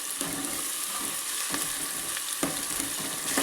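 Chicken with ginger-garlic paste fries in a pan for gongura chicken, a dense, steady sizzle broken by a few sharp scraping stirs, close and loud.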